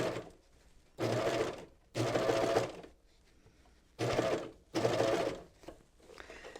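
Serger running along an apron waistband edge, in four bursts of fast whirring stitching, each about a second long, separated by short pauses, close and clear, no talk.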